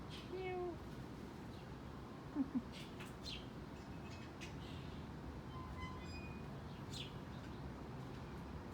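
A cat meows softly a couple of times amid quiet outdoor ambience, with faint bird chirps in the background.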